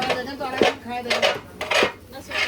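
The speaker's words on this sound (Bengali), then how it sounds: "এখন চালটা হচ্ছে একদম কষানো হচ্ছে" Rice is stir-fried in a large cooking pot, with a metal utensil scraping and clanking against the pot in a rough, repeated rhythm, close and fairly loud.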